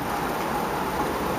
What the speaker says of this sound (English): And it's raining out here, you know?